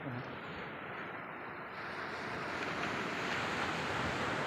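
Sea waves wash steadily onto the shore at Dwarka in a broad, continuous rush that grows slightly louder, with a little wind mixed in.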